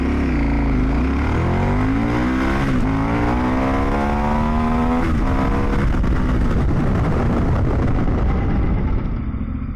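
A KTM 1090 Adventure R motorcycle accelerates hard nearby, its engine note rising through the gears in loud climbing sweeps with brief dips at each shift, then easing slightly toward the end.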